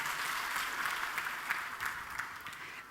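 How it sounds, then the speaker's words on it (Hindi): A church congregation claps during a Christmas Eve service, a steady, fairly faint wash of applause that holds for about three seconds before a sharp louder burst right at the end. "एक बार तालियां बजा दो प्रभु के लिए"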